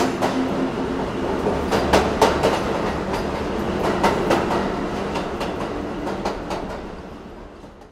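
A train from Howrah rumbles along the rails with steady clickety-clack of wheels over joints, loud and continuous, the rhythmic clicks repeating throughout with no voices.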